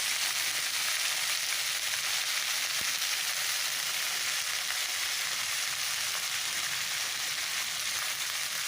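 Cabbage and potatoes frying in hot oil in a pan with onions and cumin, a steady loud broadband sizzle that runs unbroken throughout, with no talking.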